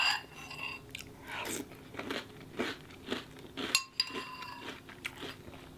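Crunchy vanilla and cinnamon cereal from Nature's Path being chewed up close, a series of distinct crisp crunching bites at a fairly regular rhythm, quiet and with no talking.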